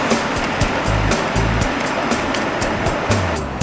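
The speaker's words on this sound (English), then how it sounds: "this is the air shower room, can help us to remove the dust from us" Steady rushing air blasts from an air shower room in an underground neutrino detector facility, a broad hiss with a few short thumps and bumps, close and continuous, without speech.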